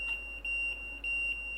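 Driver safety device alarm in a train cab in Train Sim World on the Southeastern High Speed route, a steady high electronic tone pulsing in regular beeps over a low cab hum, with no talking.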